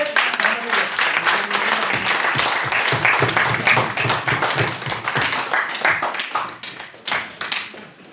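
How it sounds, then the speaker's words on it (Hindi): Loud, dense hand clapping fills a party meeting hall in Nagpur as the assembly welcomes a newly elected national president, sustained and close before thinning out toward the end. "सभी सदन के लोग अगर चाहते हैं तो हाथ उठा करके तालियों से स्वागत"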